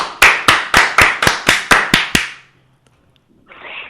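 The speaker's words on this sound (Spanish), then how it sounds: "te recibimos con este aplauso." Nine sharp, evenly spaced hand claps ring out close and loud in a radio studio welcoming a guest, then stop abruptly, leaving near silence before a faint sound at the end.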